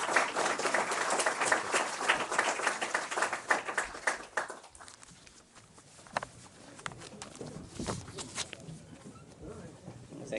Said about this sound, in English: So let's join with me in giving him a round of applause.